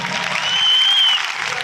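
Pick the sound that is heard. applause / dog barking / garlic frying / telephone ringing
applause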